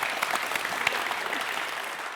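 Strong audience applause fills a Tamil comedy stage show, a dense steady clatter of many hands with no break, fairly loud and alone.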